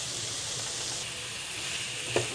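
Spices with asafoetida powder sauté in a hot pan with a steady, close sizzle and one brief stir near the end.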